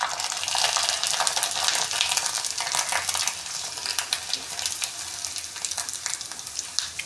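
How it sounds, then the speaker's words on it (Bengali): Sago papad fries in hot oil, producing a loud, dense crackling sizzle with rapid bubbling pops up close, continuous throughout. "সাবুর পাঁপড়ই ভাজা হোক।"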